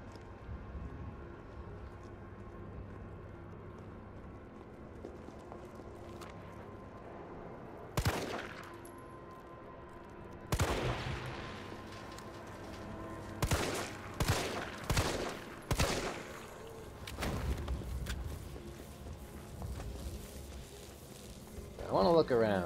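Gunfire in the video game Resident Evil 3, several sharp shots and short bursts spaced through the second half over a low ambient game backdrop, with talk in between.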